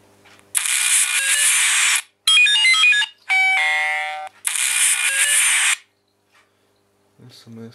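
A ringtone melody from an iSky Apple Peel 520 II phone adapter played through its external speaker, several bright electronic tunes in separate bursts of a second or two, loud and clear with short silent gaps between them and faint sounds at the end.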